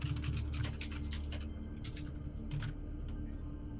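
Rapid clicky typing on a computer keyboard as a message is entered into a chat, close and fairly quiet, in two quick bursts of keystrokes with a short pause between, over a faint electrical hum.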